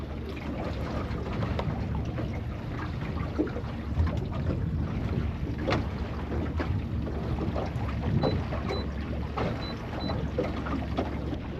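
A fishing boat runs across deep open water, with a steady engine drone blended with hull slap, spray and heavy wind buffeting the microphone throughout, and no one speaking.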